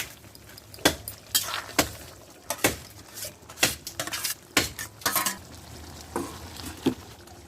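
A utensil stirs water lily and fried hilsa fish head curry in a cooking pot, sharp metallic clanks and scrapes recurring irregularly over a low simmering sizzle, close by.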